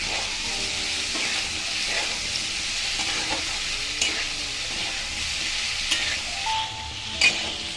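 Potatoes with nigella seeds fry in a pan and are stirred now and then, giving a steady close sizzle with occasional scraping clicks of the spoon and no talking.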